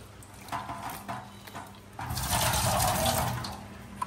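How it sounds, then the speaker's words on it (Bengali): Cut eggplant pieces washed under a running kitchen tap, a light trickle that swells into a full gushing stream halfway through, close by, with no talking. "বেগুন পানি দিয়ে ধুয়ে নিচ্ছি।"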